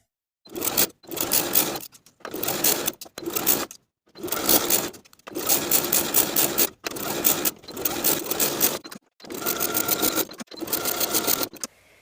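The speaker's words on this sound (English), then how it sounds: "you can continue sewing the placket stitches that we left a gap in earlier on both sides" Sewing machine edge stitching the placket of a shirt jacket, running in about eight loud bursts of steady whirring stitches separated by short pauses, with no voices.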